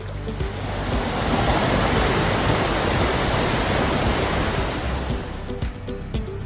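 A large waterfall in the Phu Phan mountains of Sakon Nakhon, Thailand, roars as a loud, continuous wash of falling water, with some wind buffeting and a few clicks near the end, and no talking.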